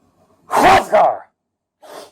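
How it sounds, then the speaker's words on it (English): A man reading aloud lets out a loud, close sneeze in two bursts, a sharp inhale-then-explosive release followed by a short second blast, then a brief quieter breath afterward. "Oh, man, I gotta sneeze. I gotta sneeze again."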